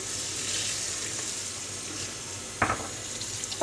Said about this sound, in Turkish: Açtım suyu.